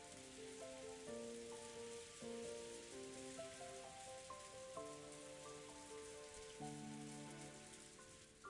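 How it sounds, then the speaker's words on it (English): Soft, steady rainfall from the video game Umineko When They Cry, a dense even patter over a gentle melodic chime pattern, with no voices. "she was wrapped up in the soft sound of the rain"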